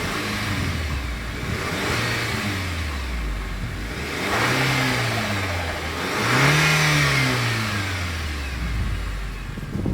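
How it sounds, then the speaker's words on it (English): A 2026 Nissan Kicks revs its engine in repeated bursts, the exhaust rising and falling through three or four distinct rev swells over a steady idle, loud and close with no talk. "As always, here is that exhaust clip."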